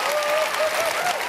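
A studio audience at a televised singing competition applauds, with thick, continuous clapping from a large crowd and a faint sung or cheering tone weaving through it.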